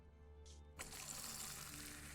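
A pint of beer poured at a tavern in Fable 2 on Xbox 360: a soft click, then a steady, faint liquid hiss of pouring that continues to the end.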